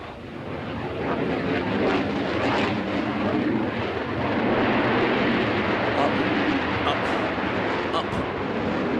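A jet aircraft performing a tail slide at the Farnborough International Airshow roars from a distance as a broad, rumbling wash of engine noise, carried through wind noise on the microphone.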